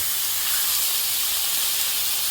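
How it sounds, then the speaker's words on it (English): Eight pork chops sear in a big hot pan with olive oil, giving off a steady, close, bright sizzling hiss that holds evenly throughout with no voices. "Looks like we got 8 pork chops in this big pan. Sit there a minute and sear."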